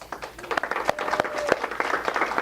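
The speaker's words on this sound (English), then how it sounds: "Let's give Judy a round of applause." Light applause from a small meetup crowd, scattered claps spread over a low murmur of chatter, moderately quiet and diffuse.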